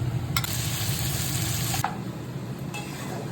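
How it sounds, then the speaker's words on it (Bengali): Ginger garlic paste fries with browned onions in a pan, giving a steady close sizzle broken by a couple of brief stirring scrapes, with no voices. "পেঁয়াজটা লাল লাল করে ভাজা হয়ে গেছে, এবার এর মধ্যে দিয়ে দেবো আদা রসুন বাটা।"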